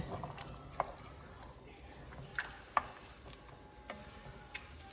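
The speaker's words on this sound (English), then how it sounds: "I'm going to stir it a little bit." A spoon stirs a pot of arroz y habichuelas (rice and beans), giving faint, soft scraping and wet clinks with a few sharper taps spaced out over a quiet kitchen background.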